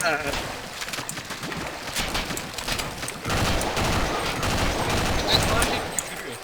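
Gunfire in the Half-Life: Blue Shift video game, with rapid bursts of shots that grow denser and louder partway through, played over ongoing game noise.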